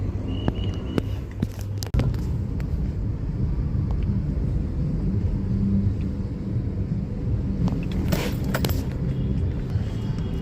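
A car drives slowly into a mall car park. Its engine and road noise make a low, steady rumble from inside the cabin, and a few soft clicks and knocks stand out along the way.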